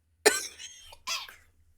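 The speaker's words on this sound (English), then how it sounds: "I just coughed." Two harsh, close coughs from a person who has swallowed a gnat, the first sharp and explosive, trailing off, then a second shorter burst after a brief pause, with near silence around them.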